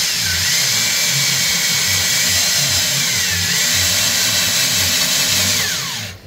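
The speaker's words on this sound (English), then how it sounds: "we're ready to go ahead and ream out these two new Delrin bushings here" A drill runs steadily on slow speed reaming out two new Delrin bushings during a Club Car Precedent golf cart rear suspension rebuild, a loud continuous whirring drone with a faint wobbling low rumble that cuts off at the end.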